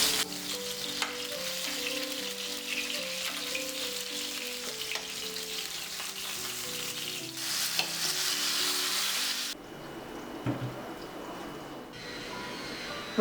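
Eggplant slices frying in oil in a pan, a dense steady sizzle under faint background music, close and continuous, then dropping abruptly to a quieter sputter near the end.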